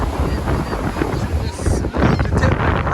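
Strong gusty wind at the beach buffets the microphone with a constant loud roar, its rumble rising and falling across the whole stretch.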